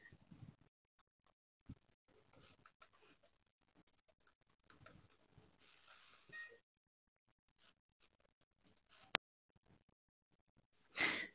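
A computer keyboard is tapped in scattered, quiet bursts of light clicks with pauses in between, plus a brighter rustling flourish at the very end.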